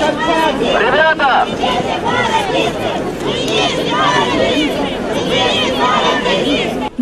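A crowd of several thousand murmurs and chatters outdoors by a Lenin monument, a steady dense babble of many voices at moderate distance.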